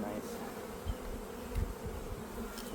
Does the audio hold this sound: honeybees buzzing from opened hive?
yes